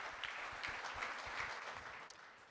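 Audience applause at a customer-experience directors' gala evening, a steady wash of clapping throughout, moderately quiet and somewhat distant, with faint voices underneath.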